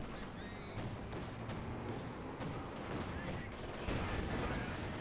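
Heavy flak fire from a Flak Panzer in the Company of Heroes 2 battle game: a dense, continuous rattle of rapid gunfire and explosions mixed with general battle noise, heard under a commentator's talk.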